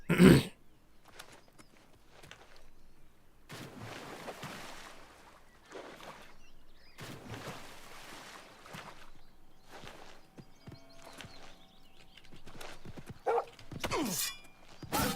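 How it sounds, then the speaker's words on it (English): A dog barking in the video game Oblivion Remastered: several separate bursts spread across a quiet in-game soundscape, moderately loud and alone, with a sharp hit at the start and faint clatter near the end. "That's a dog."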